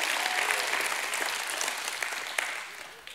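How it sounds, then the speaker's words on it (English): Church congregation claps hands together in a loud, dense burst that swells at first and slowly eases off, with faint voices and shouts mixed in beneath the clapping. "Give him a hand clap and a shout of prayer."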